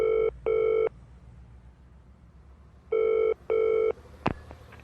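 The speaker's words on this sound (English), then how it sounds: "So I found my phone and called Wing." A telephone rings in two pairs of electronic trills, loud and close, with a quiet pause between the pairs and a sharp click near the end.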